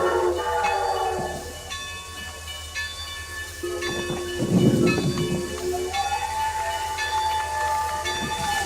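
A steam train rolls past in the Roblox railway game Rails of Unionville, a steady mechanical rumble with hissing and a brief louder burst midway, continuous and fairly close with no talking.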